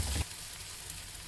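Onion-tomato masala with turmeric and chilli powder stirred in a hot frying pan: a brief scrape and bump of the spoon, then a faint, quiet sizzle carrying on alone.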